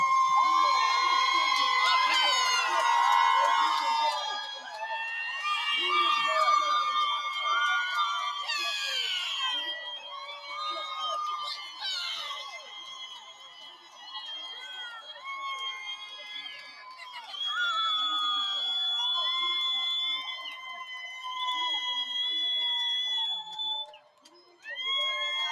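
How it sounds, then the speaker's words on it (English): A wild, loud crowd of spectators cheers and screams along the route of the Utah Pride Center Pride Parade in Salt Lake City, with shrill whistles and sustained high yelling that stays dense and continuous throughout. "A wild and loud crowd."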